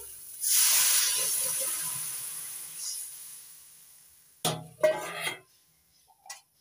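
Water poured into a hot pan of hilsa and vegetable curry sets off a loud rushing hiss that slowly fades, followed by a few clinks and scrapes of a utensil, close up.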